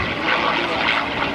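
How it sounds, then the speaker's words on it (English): A P-51 Mustang fighter plane makes a photo pass at the 2013 Dayton airshow, its propeller engine droning steadily and loudly overhead for the whole short stretch. "Look straight ahead now, and to your right as the Mustang comes in for the photo pass."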